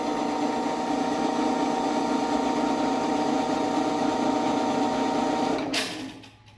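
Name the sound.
Genie track drive running along the rail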